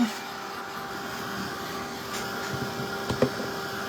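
A steady, fairly quiet whirring blower runs continuously as a dryer dries paint on a hand-painted rose box, with a few faint knocks near the end.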